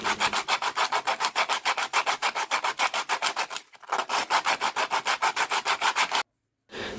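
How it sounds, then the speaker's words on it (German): Sandpaper rubs back and forth over a handmade clay structure roller in fast, even rasping strokes, loud and close, with one brief pause midway and a short silence near the end. "Deswegen habe ich jetzt hier die Rolle noch ein bisschen mit Schleifpapier bearbeitet."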